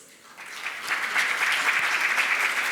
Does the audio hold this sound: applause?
yes